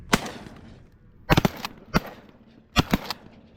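Shotguns fire at pigeons during a hunt: about six loud, sharp blasts come in quick pairs and singles over a few seconds, each with a short echoing tail in open air.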